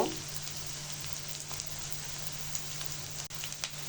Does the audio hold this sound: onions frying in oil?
yes